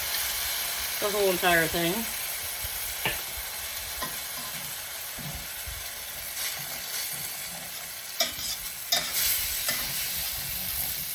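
White wine poured into a sizzling pan of beef for stroganoff hisses against the hot metal, followed by a softer sizzle with occasional clinks and scrapes, while a person talks over it.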